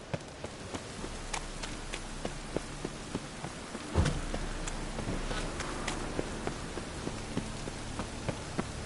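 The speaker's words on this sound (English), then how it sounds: "And it's raining again." Steady rain pours down in a Witcher 3 game scene, a dense hiss of drops with scattered louder splashes and a brief low thump midway, continuous throughout.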